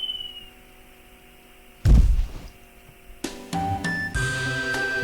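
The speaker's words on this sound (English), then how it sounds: "A couple of sealed boxes fall down next to Makoto" In BlazBlue, sealed boxes drop with a sudden heavy thud, then a string of clanking, ringing impacts follows, all over a quiet electronic hum.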